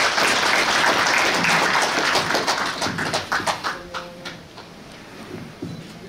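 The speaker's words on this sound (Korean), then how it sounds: "큰 박수로 환영해 주시기 바랍니다." A crowd of party members at an outdoor election rally in Suncheon gives a welcoming applause: dense clapping, loud at first, then thinning and fading to scattered claps.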